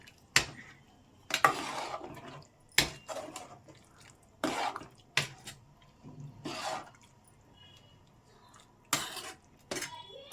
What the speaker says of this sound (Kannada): ಈಗ ಎಲ್ಲ ಸೇರಿಸ್ಕೊಂಡಿದ್ದೀನಿ, ನೀಟಾಗಿ ಮಿಕ್ಸ್ ಮಾಡ್ಕೊಳ್ಳೋಣ